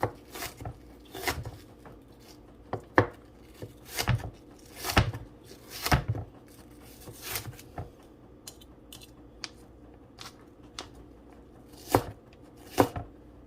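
A knife chopping an onion into small pieces on a cutting board for Jamaican jerk shrimp tacos, with sharp, irregular close-up thuds in short bursts and no talk.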